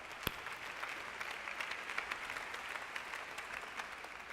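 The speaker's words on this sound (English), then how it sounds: "Yeah, let's clap for that." A chapel audience at a university claps. The applause is soft and distant, a steady patter of scattered hand claps with one sharp knock near the start.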